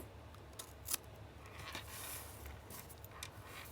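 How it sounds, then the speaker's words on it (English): Scissors snip through a paper dashboard layout in a quiet room, with one sharp cut standing out near the start followed by softer trimming sounds, close and fairly faint with no talking. "So we are going to cut that piece off."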